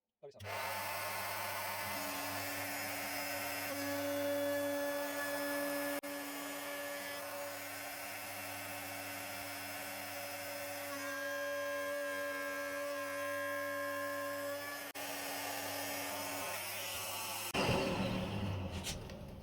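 A Festool OF1010 REBQ 1/4-inch router with dust extraction starts with a jolt, whines at a steady, high-pitched speed for about seventeen seconds, then cuts off abruptly.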